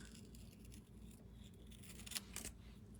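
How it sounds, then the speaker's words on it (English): Scissors snip through stamped paper leaves during a card-making session, a couple of faint, brief cuts near the end over a steady low background hum, with no talking. "Cut that out real quick."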